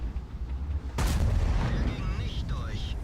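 A tank cannon fired by a T54 in World of Tanks at a player's E75, one sudden heavy boom up close followed by a long rumbling decay with ringing, whistling tones over it.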